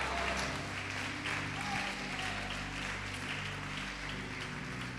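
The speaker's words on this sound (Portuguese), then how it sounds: "Pode aplaudir, adorar Ele, glorificá-lo." A church congregation applauds in sustained, rolling claps over a steady sustained musical drone, the clapping dense and continuous with faint voices mixed in.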